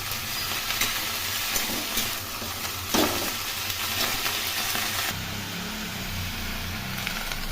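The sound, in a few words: vegetable curry with fried lentil dumplings (bori) being fried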